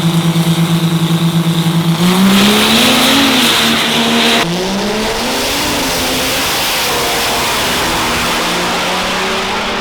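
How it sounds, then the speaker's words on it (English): Diesel pickup trucks, Cummins-powered, drag racing in the Pro Street class, roar loudly at full throttle, engine pitch climbing through shifts before a sustained high-rpm drone continues to the end. "So we raced that other white Cummins truck."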